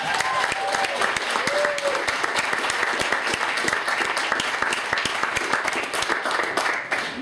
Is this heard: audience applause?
yes